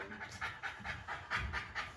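A dog pants rapidly at a pet groomer's during a facial treatment, a steady rhythm of breathy huffs close to the microphone with no talking.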